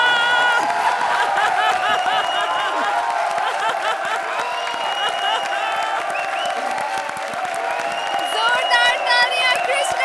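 A studio audience at a Comedy Circus show claps and cheers for Krushna, a loud, sustained wave of applause with whoops and a voice speaking over it.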